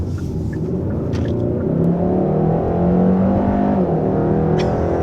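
A 2021 Hyundai Sonata N-Line with front-wheel drive and 290 hp accelerates hard, its engine note a steady, loud rumbling drone that rises slightly in pitch, with no voices.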